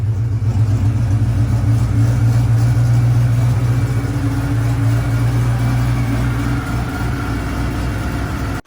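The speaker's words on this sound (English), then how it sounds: "The thing just fired right up and idled like it had a friggin' full tune." A Camaro's freshly rebuilt 6.0 V8 idles with a loud, steady low rumble and a slight lope, close up, running evenly for several seconds before cutting off abruptly.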